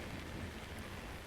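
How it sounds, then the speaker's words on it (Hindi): Steady rain at a railway station on a train route toward Hubballi via Dharwad, a dense, even hiss of drops on surfaces filling the short stretch with no voices. "यहाँ बारिश हो रही है"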